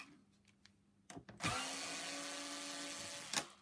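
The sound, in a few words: unscrewing Torx 20 screws on vacuum cleaner mount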